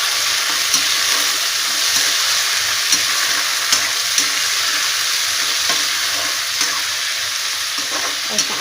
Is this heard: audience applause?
no